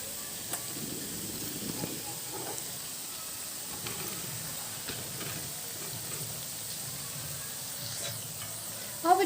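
Onion pakoras (pyaji) fry in hot oil in a home kitchen, giving a steady, soft sizzle with faint crackles throughout and a brief louder clatter at the very end.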